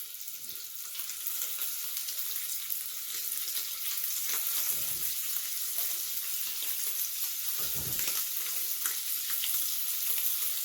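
Scallops sizzle in a hot skillet, a steady close hiss of frying with a couple of brief soft clunks as pieces are placed or moved.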